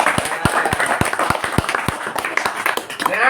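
Applause from a crowd at a Javanese religious talk, sharp claps standing out over a busy murmur, steady and fairly loud for a few seconds.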